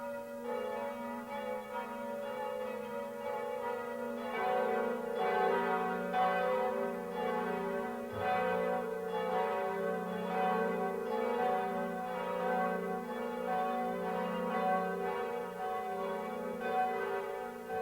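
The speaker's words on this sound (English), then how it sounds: "Quasimodo was so happy that he rang all the bells." The great bells of Notre Dame cathedral, rung by the bell-ringer in a 1996 animated film, peal in an overlapping, rhythmic clangor that sustains steadily for many seconds at moderate loudness, with no speech.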